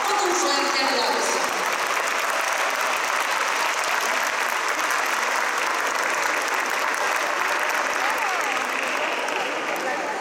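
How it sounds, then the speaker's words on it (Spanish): A large audience applauds loudly and continuously for an eighth-grade class performing a diablada song at a school event, with dense clapping and crowd noise that hold steady and only ease slightly at the end. "Recibamos con un fuerte aplauso."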